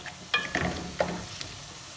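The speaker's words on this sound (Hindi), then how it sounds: "यहाँ हमने की है 2 से 3 मिनट चिकन की अच्छी तरह से भुनाई" Chicken browning in a pan for chicken korma over a medium-low flame, with a soft, low sizzle broken by a few clattering stirs and scrapes of a spoon.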